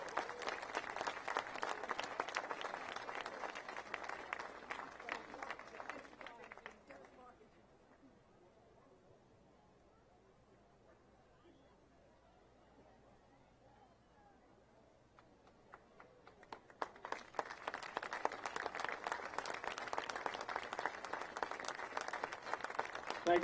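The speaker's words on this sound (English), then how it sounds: "give them a nice round of applause" Audience applause for a departing color guard at a sand sculpting festival awards presentation on Revere Beach, a dense crowd of clapping that fills the room, drops away to near silence midway, then swells again just as loud.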